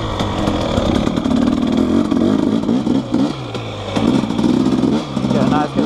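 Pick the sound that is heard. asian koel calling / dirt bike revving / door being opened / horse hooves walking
dirt bike revving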